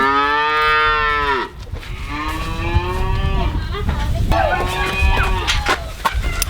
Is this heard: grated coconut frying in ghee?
no